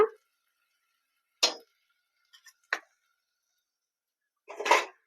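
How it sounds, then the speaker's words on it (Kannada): A spoon scraping and clinking in a pan while stirring onion, tomato and salt for bitter gourd gravy, four or five sharp separate taps with quiet gaps between them. "ಇದನ್ನ ಚೆನ್ನಾಗೆ ಮಿಕ್ಸ್ ಮಾಡ್ಕೊಳ್ಳೋಣ ಉಪ್ಪೆಲ್ಲ ಮಿಕ್ಸ್ ಆಗಿರಲಿ"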